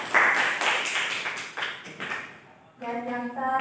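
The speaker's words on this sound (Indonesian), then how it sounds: "Tepuk tangan untuk kelompok poster." A classroom group claps for the poster team, a dense patter of hands fading out after about two and a half seconds before a voice begins talking.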